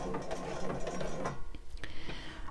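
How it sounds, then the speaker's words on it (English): A sewing machine stitches a bra, running in a steady mechanical whir with a ticking rhythm that slows and stops near the end, close and moderately loud. "Hold your threads and start to sew."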